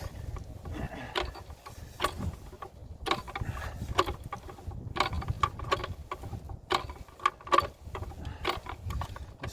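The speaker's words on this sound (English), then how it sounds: "I'm going to reposition the winch down to that corner and pull him back that way" Winch pulling a half-ton field shelter: irregular mechanical clanks and ratcheting clicks, fairly close, with rumbling low-end noise and faint creaks throughout.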